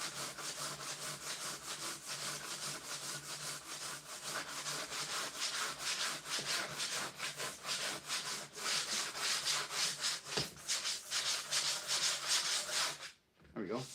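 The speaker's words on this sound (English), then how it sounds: "these are kind of temporary sanding blocks" A foam sanding block rubs across a curved streamliner mold in quick, continuous back-and-forth strokes, close and steady for the whole stretch, with no one talking.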